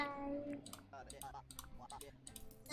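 A gamer's keyboard clicks loudly in quick, irregular bursts of keystrokes, close and crisp, while a voice talks over the typing.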